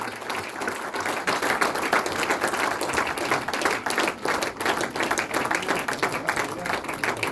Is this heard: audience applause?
yes